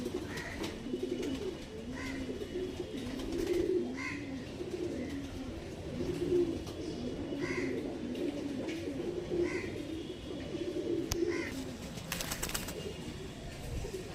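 Lal Shira pigeons coo repeatedly in low, rolling phrases at a steady rhythm, close and moderately loud, with light rustling between calls.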